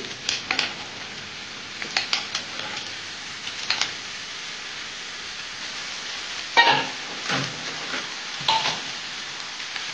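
Sliced eggplant goes into a pan already frying Bombay duck fish, giving a soft, steady sizzle broken by several sharper bursts of spattering and stirring, close by and without talk.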